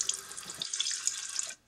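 Water pours steadily from a household faucet in a short, close, hissing burst that cuts off abruptly.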